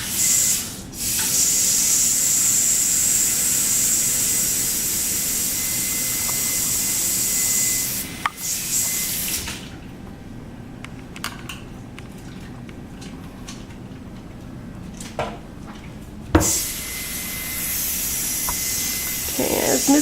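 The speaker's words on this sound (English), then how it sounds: "As Ms. Gonzalez is washing her hands" Water runs steadily into a sink as hands are washed while preparing a dental treatment room, a continuous hissing spray for several seconds, then it stops and is followed by quieter handling sounds and light taps.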